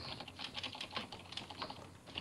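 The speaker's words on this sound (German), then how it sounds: "Boah, die Tastatur quietscht." A computer keyboard, said to squeak, rattles under quick, close typing: uneven bursts of clicks and clacks over a quiet background during a Minecraft game.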